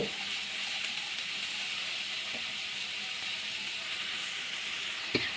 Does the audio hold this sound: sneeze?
no